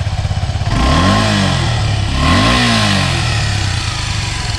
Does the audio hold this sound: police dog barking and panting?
no